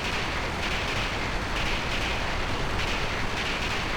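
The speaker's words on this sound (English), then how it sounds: "Stop the train!" A train rumbles along steadily in Final Fantasy VIII, a dense, continuous rolling clatter that stays loud and even throughout with no voices.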